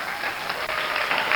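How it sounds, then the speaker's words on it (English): A school assembly audience applauds steadily, a dense wash of many hands clapping at once, loud and continuous through the whole short stretch. "Let's give another round of applause to all of our candidates."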